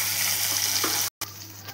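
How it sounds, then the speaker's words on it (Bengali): Murolla fish fry in hot oil in a pan, giving a dense, continuous close-up sizzle that cuts out for a split second and then resumes. "মুরাল্লা মাছগুলো এক পিঠ ভাজা হয়ে গেছে, আর এক পিঠ তুলে নিব।"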